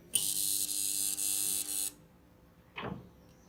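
A spot welding machine joins a metal plate, giving a steady electrical buzz for nearly two seconds that stops abruptly, followed by a short soft clunk.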